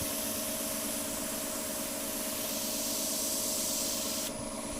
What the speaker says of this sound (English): Just using the air then from the airbrush just to help the drying process.